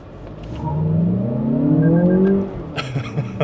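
A Lexus RX500h F-Sport hybrid SUV in sport mode accelerates hard, its engine note rising steadily over about two seconds, then easing off into lighter road and cabin noise.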